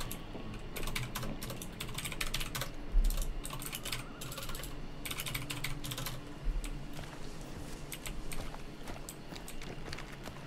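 Rapid clattering keystrokes on a computer keyboard run continuously and close by during a Hunt Showdown gaming session, with a few heavier thumps in between.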